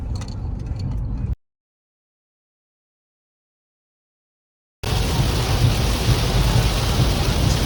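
Heavy rain pours during a flood in Australia, a loud, dense roar of downpour with thundery rumbling. It is broken by a few seconds of complete silence before the storm noise resumes at full strength.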